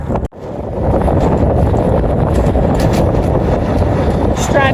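Strong wind roars and buffets the microphone in a constant loud rush while riding a vehicle through desert sand dunes during a wind storm, with a brief dip near the start.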